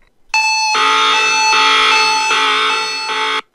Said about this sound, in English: The crash quickly triggers a blaring alarm throughout the bank.